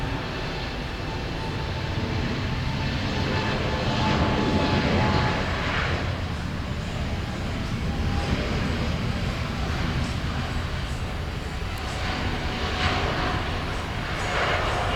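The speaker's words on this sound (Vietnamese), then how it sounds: "mời mọi người chiêm ngưỡng pha cất cánh của chiếc Airbus A350-900 này nha" A Vietnam Airlines Airbus A350-900 takes off, its jet engines producing a loud, sustained broadband roar that holds steady throughout without any break.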